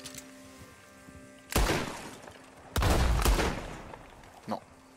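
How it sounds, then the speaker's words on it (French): Two loud gunshot blasts in a Red Dead Redemption 2 train robbery scene, each a sharp broadband crack with a rumbling tail, the second longer, followed by a smaller thump; faint tonal hum underneath. "Et si je tire dessus?"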